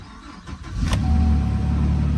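A pickup truck engine cranks briefly and catches, settling into a steady low idle rumble that continues close by.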